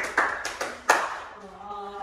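Several sharp, close hand claps in a counted clapping game, spaced in a quick pattern, followed by a voice toward the end.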